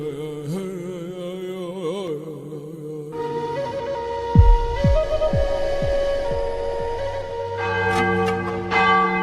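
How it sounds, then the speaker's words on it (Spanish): A church bell rings out with strong sustained tones over a layered musical background, several struck peaks decaying into a bright ringing texture. "la campana de oro"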